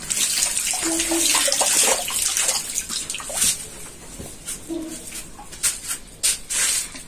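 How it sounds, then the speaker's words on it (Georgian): Hands being washed under a running tap, with a steady flow of water splashing and spattering close by and brief drips as the hands move through the stream; no one speaks. "გადავილო ხელები."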